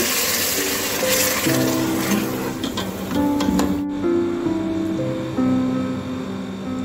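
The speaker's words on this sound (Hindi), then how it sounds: "अब हम इसमें 3 कप पानी डाल देंगे।" Water poured into a pan of semolina and sugar makes a loud rushing, hissing gush that cuts off abruptly midway, with a faint background melody.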